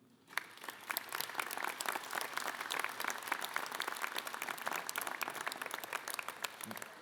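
Audience applause during a mayor's New Year speech in a gymnasium, steady crisp clapping from a crowd at moderate distance, dense and even throughout with individual sharp claps standing out.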